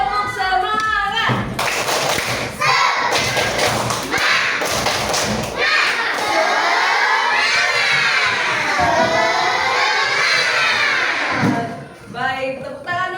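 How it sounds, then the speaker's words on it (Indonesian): A school class of children performs a rhythmic spirit clap chant, with patterned hand claps and thumps layered under loud, shouted children's voices chanting together. "Siap, tepuk semangat."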